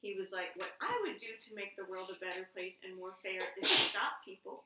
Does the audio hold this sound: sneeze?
yes